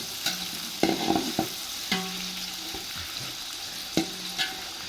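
Onions and spices fry in a pot for mutton biryani while a spoon stirs them. A soft sizzle runs underneath irregular scraping clacks and a few sharp knocks against the pan.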